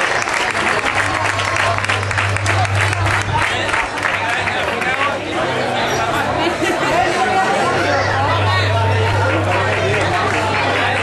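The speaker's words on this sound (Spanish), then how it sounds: "señora, dele más palmas, hombre" Spectators at a trophy ceremony clap loudly and continuously while a crowd chatters, with a steady low hum running underneath throughout.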